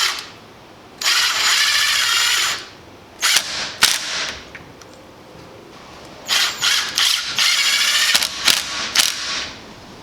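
Power drill with a 7/64 inch bit boring pilot holes for door security screws, several short high-pitched whirring bursts of a second or two each, separated by pauses and small clicks.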